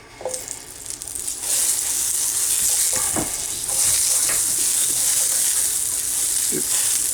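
Food sizzles and fries steadily in a Stargazer cast iron skillet, a loud continuous hiss with occasional stirring scrapes and clinks close by, heard without talk.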